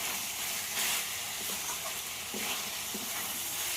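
Ginger paste and chicken sauté in a pan with a steady broad sizzle, broken by soft scraping from a spatula, moderately close and without speech.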